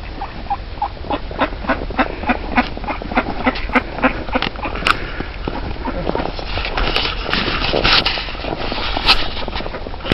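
Ducks at a park lake quack in a string of short, fairly close calls, mixed with scuffing and rustling sounds of a hiker nearby.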